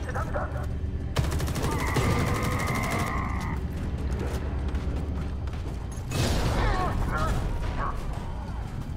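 Explosions and rapid gunfire erupt in the first-person shooter Homefront: The Revolution, loud crackling blasts in bursts with mechanical clatter and a brief rumbling boom, while someone speaks over the action.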